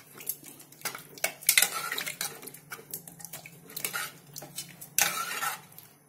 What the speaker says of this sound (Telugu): ఆ పప్పు వేసుకొని మంచి కలుపుదాం